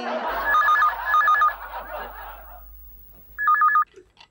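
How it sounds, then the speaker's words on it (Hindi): An electronic phone ring trills in bursts, twice under chatter and laughter, then once more alone after a short quiet gap. "उपाध्याय का फोन है"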